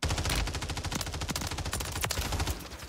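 Rapid automatic pistol fire from a Glock fitted with a switch in Warzone 3 on Rebirth Island, a loud continuous burst of closely spaced shots filling the whole stretch with no talking.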